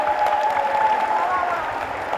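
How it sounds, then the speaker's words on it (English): Audience applause at a school annual day, a continuous crowd clapping with a sustained tone and talk underneath. "a big applause to each one of them, please."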